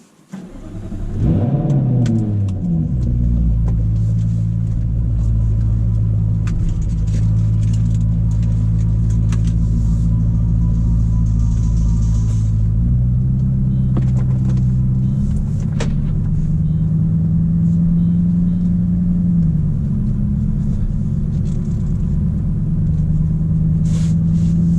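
A Jaguar F-Type R fires up and settles into a deep, loud, steady rumble close by, with the idle shifting slightly in pitch partway through and no talking over it.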